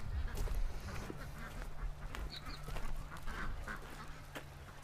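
Ducks on a farm quacking at moderate distance, scattered short calls over a steady low hum and background noise.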